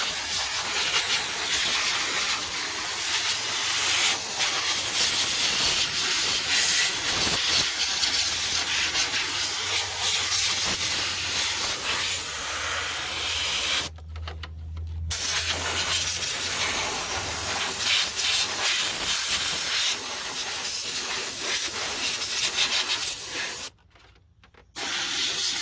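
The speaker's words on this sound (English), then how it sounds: "use a little compressor gun and just blow all the water" A compressor air gun blasts water out of the ABS unit on a Mk4 VW Jetta, Golf or Beetle, a loud, harsh hiss running nearly nonstop with two brief pauses.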